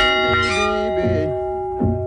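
A Louisiana plantation bell rings out loudly and close, a sustained metallic tone with long ringing overtones, struck again near the end with a fresh clang.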